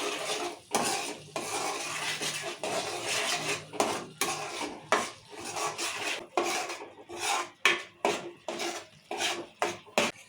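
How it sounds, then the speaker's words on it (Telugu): Chili powder being stirred into a tomato curry in a metal pan, a spoon scraping and clinking against the pan in steady repeated strokes, close and fairly loud with no talking. "ఇప్పుడు తగినంత కారము బాగా కలుపుకుందాం"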